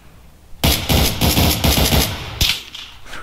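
Rapid automatic gunfire in a GTA roleplay shootout, a loud close burst of shots lasting about two seconds, followed by a single heavier blast.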